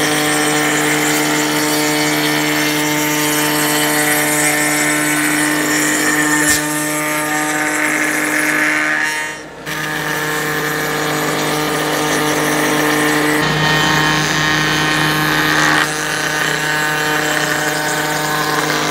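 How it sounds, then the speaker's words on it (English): A router cuts a wooden board into a 1.5 inch dowel, giving a loud, steady, high-pitched machine whine that runs continuously, with one brief dip in the middle and no talking. "just run your board through the router until you get to the end"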